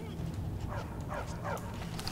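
A dog in Skyrim gives three short yipping barks spaced about a second apart, close and moderately loud over a dense game background.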